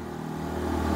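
A Honda Beat FI scooter engine revved up, its droning buzz rising steadily in loudness over about a second, close and alone without any voices.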